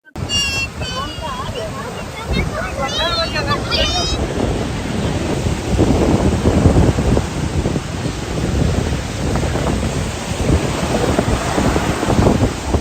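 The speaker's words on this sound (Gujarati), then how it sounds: "અને મસ્ત મજાના પવનના લહેરા આવી રહ્યા છે." Strong wind and rolling sea surf at Somnath beach on the Gujarat coast form a steady roar that fills the whole stretch, with a few distant voices near the start.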